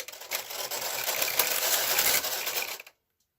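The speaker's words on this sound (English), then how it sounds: "Taking a deep breath, knitting across for row 3." Hand knitting a row of red mittens on needles produces a steady close mechanical clatter and rattle for nearly three seconds, then stops abruptly into silence.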